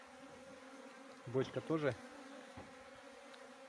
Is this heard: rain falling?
no